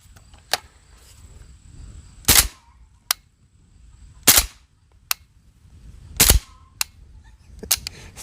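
Several sharp, muffled shots from a suppressed 7.62x39 Galil rifle ring out one at a time with long pauses between them, plus a few lighter clicks and clacks of the action being hand cycled.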